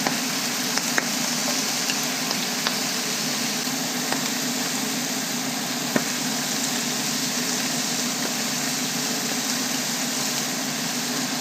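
Chicken liver fries in a pan, giving a steady, even sizzle that runs throughout with a few faint clicks and taps on top. No one speaks.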